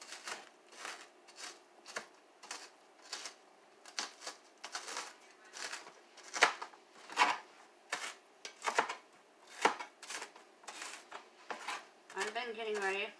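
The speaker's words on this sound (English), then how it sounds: "Dough slicer at the Dollar Tree. It works wonders for mincing onions." A Dollar Tree dough slicer minces onions with sharp, irregular chopping strikes that come in quick bursts. Near the end a person begins talking.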